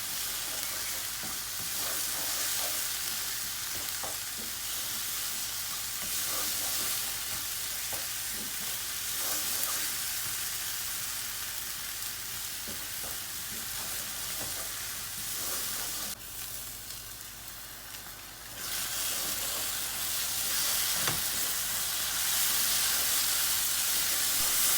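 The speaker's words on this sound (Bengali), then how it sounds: "1 চামচ ধনিয়াও দিয়ে দিচ্ছি আর জিরা 1 চামচ। মশলাটা ভালো করে ভাজতে হবে।" Coriander and cumin spices frying in a pan, a continuous loud sizzle with steady hiss and occasional stirring scrapes, briefly dipping before returning strong.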